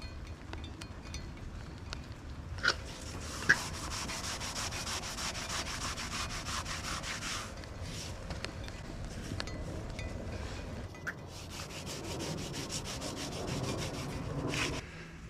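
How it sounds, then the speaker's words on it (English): Car paint is wet sanded by hand in wet weather. Long rhythmic rubbing strokes come close up in several bursts with short pauses between them, and faint light knocks are heard alongside. "today might be a good day to do wet sanding."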